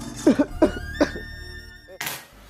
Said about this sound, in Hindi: एक खांसती हुई माँ